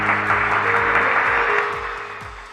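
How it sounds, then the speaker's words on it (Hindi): Applause from a studio audience at a televised game show, a dense steady clapping that holds loud and then eases off slightly, with some background tones and no talk over it. "में चाहूँगा एक दफ़ा उनके लिए बहुत सारी तालियां होनी चाहिए"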